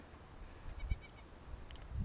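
Pygmy goat kids, newborn females, bleat softly outdoors on a warm day, a few short nasal cries rising over a low breezy background.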